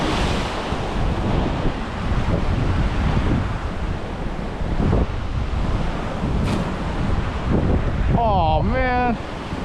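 Strong wind on the coast of Guam buffets the microphone in a steady roar over crashing surf. A brief voice or bird-like warble rises near the end.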